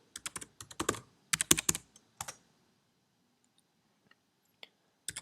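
Keystrokes on a computer keyboard entering a username and password on a Mac, a quick run of crisp clicks, a pause, a second burst, then scattered single taps and a final flurry, close and clear with no talking.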